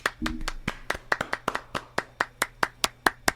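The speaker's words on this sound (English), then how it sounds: "Clap it up, clap it up." A few people clap for a podcast's six-month anniversary, about a dozen sharp, evenly spaced hand claps in a steady rhythm, close and fairly loud.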